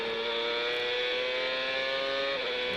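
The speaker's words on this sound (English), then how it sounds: "If you hear the engine go quiet, that's the rear tires locking." A race car engine at the 2002 Motorola 220 holds a loud, steady high-pitched whine, then dips briefly near the end as the rear tires lock under braking.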